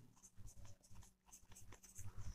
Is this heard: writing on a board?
yes